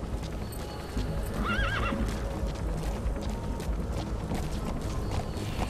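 A horse whinnies loudly once over a steady backdrop of clip-clopping hooves and rumbling movement, in the game Metal Gear Solid V: The Phantom Pain.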